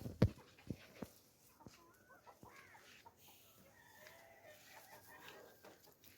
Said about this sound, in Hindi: मुर्गियाँ घास खा रही हैं